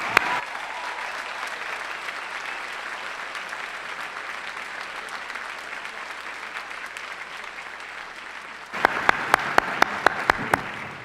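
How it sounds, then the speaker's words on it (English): Commencement audience at a university arts school ceremony applauding, a long, loud, dense wash of crowd clapping that ends in a few sharp, spaced individual claps close by. "I ask you to applaud them"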